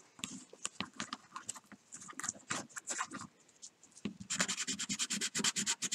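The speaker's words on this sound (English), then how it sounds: "we're going to go to a smaller grit. That was the 180. We'll go to the 240." A hand-carved wooden fishing lure rubbed with 240 grit sandpaper, heard as close, irregular scratchy strokes that turn into a quick, even run of rhythmic rubs near the end.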